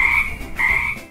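A frog gives two loud, close, rasping croaks in quick succession, each about half a second long, with no voices.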